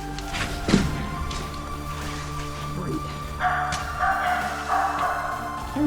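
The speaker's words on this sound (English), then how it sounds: "It sounds like there's a dog in there." A dog barking inside Thor's Cave, a few sharp echoing yaps heard at a distance amid hollow rocky ambience, with people talking nearby.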